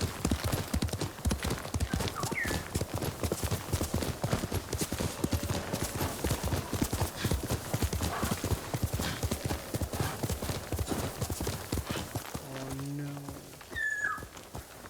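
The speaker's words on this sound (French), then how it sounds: "Tu es un bon cheval, Sora." Steady clip-clop of horse hooves trotting at an even pace throughout Ghost of Tsushima, with a brief whinny near the end; the sound is synthetic and game-like.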